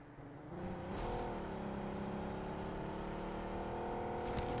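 Car engine in a scrim match of a battle royale video game, rising as the car accelerates and then holding a steady drone, quiet and without voices.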